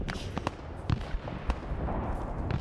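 Artillery shells landing in a Vietnam War combat video game, a rumbling barrage with several sharp booming impacts spread across a steady low roar, fairly loud and heard without talk.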